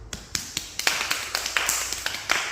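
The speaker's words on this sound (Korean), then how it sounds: "박수" Sharp hand claps at a family taekwondo board-breaking practice, about a dozen crisp, close strikes in an uneven, quickening rhythm with no voices over them.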